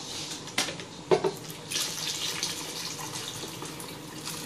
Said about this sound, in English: So we've just put a little touch of water in there.